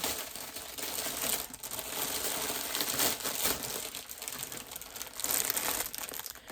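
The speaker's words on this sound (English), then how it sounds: "sorry for all the crinkling" Packaging crinkled and handled close up, a continuous dense rustle of plastic with sharper crackles, loud and unbroken.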